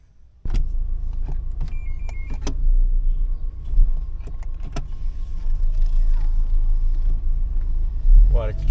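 A 2001 Fiat Brava 1.6 automatic runs at steady speed, a low engine and road rumble heard from inside the cabin, with a few clicks and knocks over the drone.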